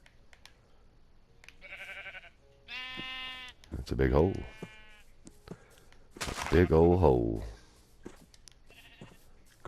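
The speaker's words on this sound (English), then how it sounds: "Crazy sheep." Several sheep bleats from Minecraft, in a taiga landscape, come in short separate calls, some loud and close, with someone talking over and between them.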